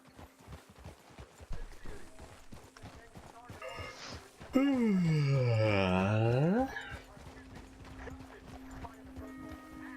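Horse hooves clip-clop steadily in Red Dead Redemption 2, a repetitive rhythm under game music, briefly interrupted by a loud sustained tonal whinny-like cry in the middle, with someone talking over parts of it.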